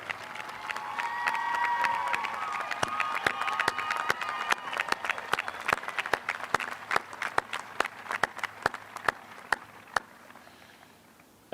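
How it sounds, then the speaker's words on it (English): Applause at a high school graduation ceremony, an audience clapping with scattered cheers that swell early on, then thin to sparse, distinct claps that fade out. "I believe they need an extended applause"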